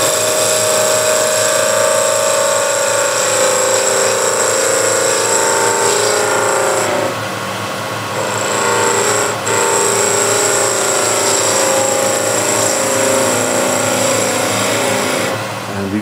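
A woodturning lathe spins while a spindle gouge cuts just right of the tool's point, making a steady whining motor hum with a brief dip in the middle, loud and close, no voices.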